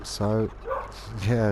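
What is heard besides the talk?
dog barking outside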